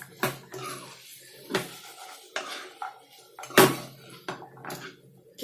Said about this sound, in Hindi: अच्छे से इन सबको मिक्स करिए।